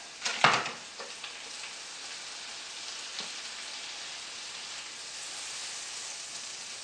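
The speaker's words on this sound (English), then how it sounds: "This one I will use some butter to put in here to grill the bread." Butter and onion sizzle in a pan for grilling sandwich bread, a soft, even frying hiss throughout after a brief clatter at the start.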